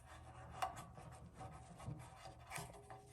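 A rubber sleeve being worked out of a Honda CRF250L aftermarket gas tank, producing quiet rubbing and scraping scuffs with a couple of small knocks, close and fairly faint.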